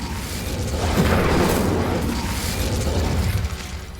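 A fire spell is cast in the Hogwarts Legacy video game, giving a loud, sustained whooshing burst with a low boom that fills the moment and fades slightly toward the end.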